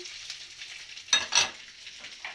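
Kumpir filling ingredients being stirred together, a couple of short, close scraping and mixing bursts over a faint background, with no voices.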